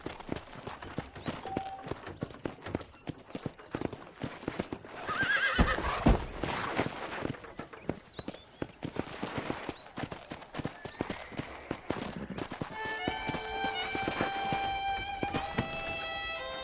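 A horse in the Red Dead Redemption video game gallops with steady clip-clopping hooves, whinnying loudly partway through, while western ambience and scattered sounds mix in near the end.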